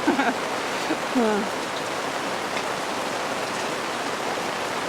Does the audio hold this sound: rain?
yes